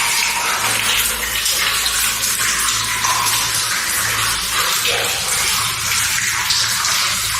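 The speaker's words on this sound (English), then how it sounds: "There's water dripping" Water dripping and splashing inside an old mine tunnel, a loud, continuous wash of falling water that fills the space evenly without pause and with no voices.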